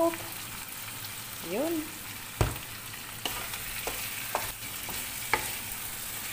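Tomatoes and salt frying and being stirred in a pan for chicken curry: a steady soft sizzle with scattered clinks and scrapes of the spoon, while a voice speaks briefly.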